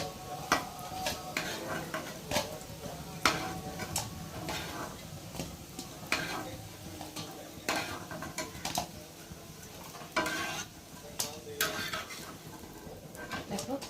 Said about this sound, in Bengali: বড়াগুলোকে ভেজে তুলে নিয়েছি